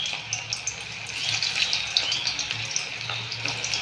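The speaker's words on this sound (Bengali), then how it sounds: "কড়াইয়ে তেল দিলাম, তেলটা গরম হয়ে গেলে বড়াগুলো ভেজে নেব।" Fish roe fritters fry in deep hot oil in a wok, giving a continuous close-up sizzling hiss scattered with small crackles and pops.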